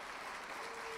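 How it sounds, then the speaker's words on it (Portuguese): Brief, steady applause from a church congregation during a sermon, a faint continuous wash of clapping with no distinct individual claps. "se você vai continuar aplaudindo assim, desculpa, melhor não aplaudir"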